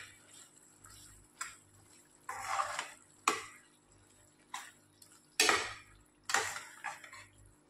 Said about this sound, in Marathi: यातच आपण आता शिमला मिरची आणि बटाटा ॲड करूया आणि मिक्स करून घेऊया